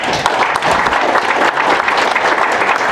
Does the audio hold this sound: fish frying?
no